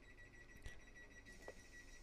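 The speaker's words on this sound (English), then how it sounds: "That beeping is accurate. It actually sounds like that" Door-closing warning beeps on a Class 360 electric multiple unit train in Train Simulator 2014, a quiet steady tonal electronic beeping with a couple of soft clicks, heard alone.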